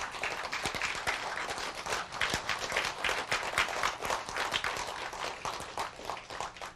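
An audience at a lecture claps in a sustained round of applause, many hands at once, fairly faint and steady with no voices over it.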